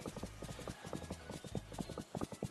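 Horse hooves clip-clop in a steady, repeating trot while riding in the Dreamlight Valley video game, close and fairly quiet, with no talking.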